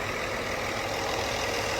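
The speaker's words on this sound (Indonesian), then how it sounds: "Suara Scania K40 kalau idle enak banget." A Scania K40 diesel engine in a Jetbus 3 coach idles with a steady low rumble, heard close up at the open rear engine compartment, with no voices.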